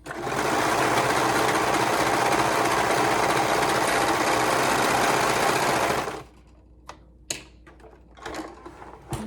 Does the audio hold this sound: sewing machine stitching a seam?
yes